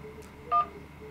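A single short telephone keypad DTMF tone in an IVR phone menu, a brief clean dual-pitched beep standing alone over faint background hiss.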